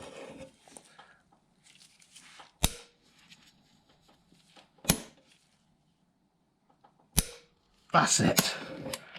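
A wrench tightens a bolt to 85 newton meters during a cracked-cylinder-head rebuild on a Suzuki Alto engine. Three sharp, isolated clicks come a couple of seconds apart, then a burst of clattering metal handling, with brief speech in a quiet garage.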